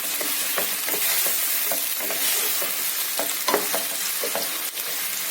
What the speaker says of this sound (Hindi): ये प्याज हमारी तले जा रही है।